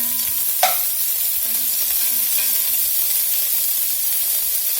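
Chunks of steak for chili colorado sear in a hot pan with a steady close sizzle and hiss, and one sharp utensil clack near the start, with no talking.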